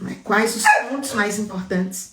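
An elderly 15-year-old dog lets out short, whimpering barks and yips close by, mixed in with someone talking in Portuguese.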